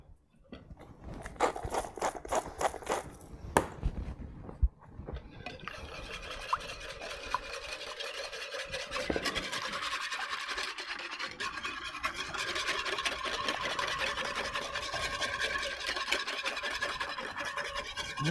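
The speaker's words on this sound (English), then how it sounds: "we'll whisk these 3 things together first with some salt and pepper" Dressing ingredients with salt and pepper are whisked in a bowl, a busy scraping, rasping rhythm close to the mic that begins with clicks and grows into steady, continuous stirring.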